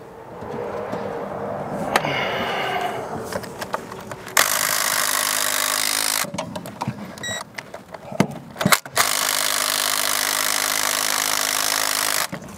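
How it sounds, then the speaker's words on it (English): An engine hose on a seized 1968 V4 engine is cut, giving long stretches of steady, loud rasping and sawing with brief pauses between them. No one speaks. "Before I get too far, I need to cut my hose."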